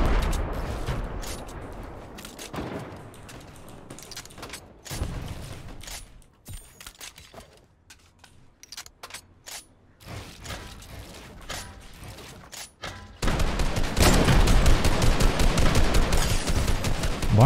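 Fortnite gunfire spams a brick cone in rapid bursts, with dense, fairly close shots in uneven clusters and mechanical clicks between them, building to a louder, continuous barrage near the end.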